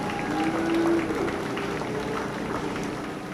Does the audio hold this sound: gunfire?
no